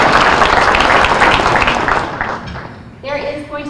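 Audience applause for volunteers at a public forum on the future of marijuana in Pennsylvania, a dense wash of clapping from a crowd that fades toward the end as a voice begins speaking over it.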